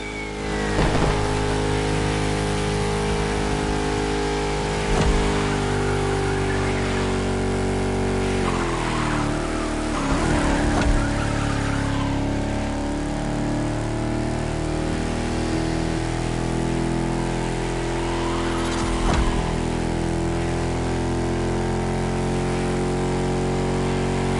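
Chrysler 300 SRT8 with a V8 Hemi racing in a PS4 game, its loud engine droning steadily with gear-change surges and repeated tire skids and squeals over the run.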